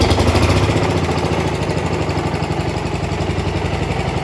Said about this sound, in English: we'll go ahead and fire this thing up for you